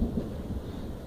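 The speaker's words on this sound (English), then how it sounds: "You guys hear that thunder yet?" Distant thunder rolls over Kansas in a low, steady rumble that lasts the whole moment, with no voices over it.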